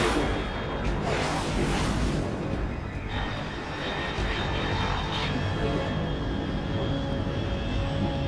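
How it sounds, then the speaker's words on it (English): A fast aircraft roars past at high altitude in the video game Metal Gear Solid Delta: Snake Eater, a loud broad whoosh swelling and fading over several seconds. "Unidentified aircraft detected."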